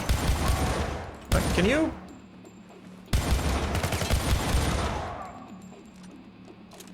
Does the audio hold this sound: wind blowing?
no